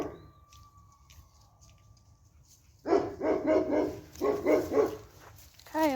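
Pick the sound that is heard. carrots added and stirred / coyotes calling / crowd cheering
coyotes calling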